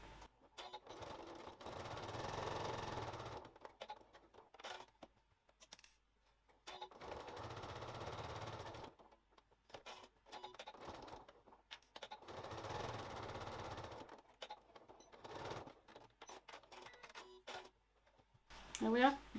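A sewing machine stitches down the sides of a fabric lining in several bursts of rapid whirring, each run a few seconds long, with quiet gaps and a soft click at the end.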